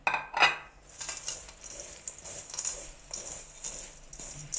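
Cashews tipped into a small bowl, with a brief clattering spill near the start followed by quieter scattered taps and light clinks of nuts and dishware, close and alone.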